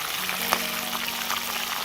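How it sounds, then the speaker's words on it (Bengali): Shahi chicken zafrani roast fries in a pan on the stove, a steady close sizzle with faint crackles and a brief stir near the start. "এটা জাফরানি এখানে রোস্ট হচ্ছে।"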